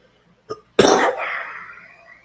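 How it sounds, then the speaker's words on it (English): A short throat sound, then one loud, harsh cough burst that trails off over a second or so, close to the listener. "My cough's getting a lot better."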